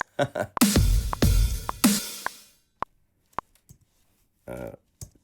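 Metronome clicks from music production software, a handful of sharp isolated ticks spaced through the clip, preceded by louder bursts of other sound and a short buzzy tone near the end.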